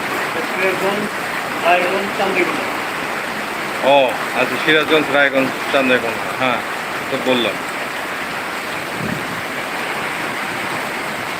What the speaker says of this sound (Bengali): সিরাজগঞ্জে প্রচণ্ড বৃষ্টি হচ্ছে